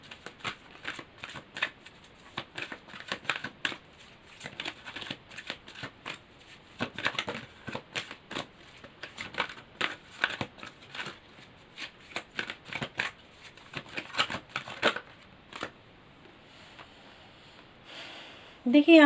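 Tarot cards shuffle in rapid riffling bursts, close and crisp, repeating through the stretch before a card is drawn, with a voice speaking at points.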